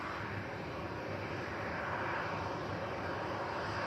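A heavy jet departs the runway at Manchester Airport, giving a steady, dense, broadband engine roar that stays loud and constant throughout, with no voices.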